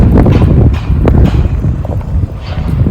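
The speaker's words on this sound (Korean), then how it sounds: "오, 갑자기 바람이 불기 시작합니다." Strong wind gusts outdoors in Mokpo during cherry blossom season, blowing across the microphone as a loud, continuous low roar with uneven surges and no talking.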